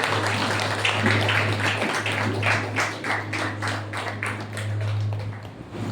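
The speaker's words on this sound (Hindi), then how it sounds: "आइए एक जोरदार तालियों के साथ हम प्रभु को धन्यवाद करें।" A church congregation at a Sunday service gives sustained applause. Many hands clap densely and steadily over a constant low electrical hum.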